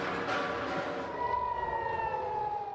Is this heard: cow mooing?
no